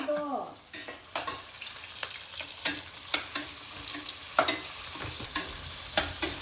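Onions sizzle and crackle as they fry in a pan for a chicken biryani, with frequent stirring scrapes and clanks cutting through the steady close-up hiss; no one speaks.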